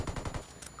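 Gunfire in Ghost Recon Wildlands: a quick burst of four or five muffled, fairly distant shots, then a short quiet gap and a sharp faint click at the end.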